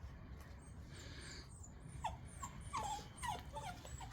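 An adult male dog, sire of a litter of puppies offered for sale, gives several faint high whimpers and yips in quick succession over steady background noise.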